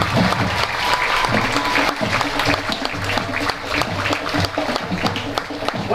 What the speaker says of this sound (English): How about one more round of applause for the Neshannock Lancer Marching Band?